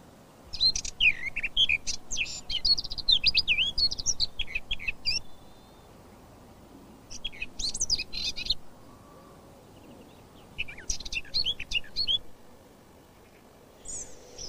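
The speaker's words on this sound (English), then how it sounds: "You may hear a scolding call and a song which usually comes in short bursts and is particularly melodious." A garden bird gives short, sharp scolding calls and bursts of melodious song, with chirpy phrases coming in three or four groups separated by quiet gaps against a soft outdoor background.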